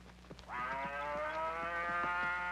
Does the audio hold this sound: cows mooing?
yes